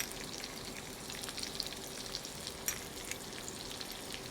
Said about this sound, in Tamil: கருவேப்பிலை, சின்ன வெங்காயம், ஒரு 15 பல் சின்ன வெங்காயம். இது கொஞ்சம் வதங்கணும்.